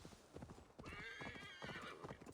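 Horse hooves clip-clop in a steady rhythm in Assassin's Creed Valhalla, mixed with a whinnying neigh and game background sound, moderately loud.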